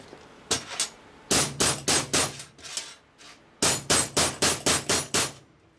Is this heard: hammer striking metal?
yes